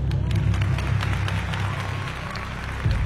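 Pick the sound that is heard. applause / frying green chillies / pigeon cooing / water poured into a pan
applause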